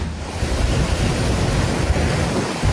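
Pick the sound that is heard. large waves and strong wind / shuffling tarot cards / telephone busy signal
large waves and strong wind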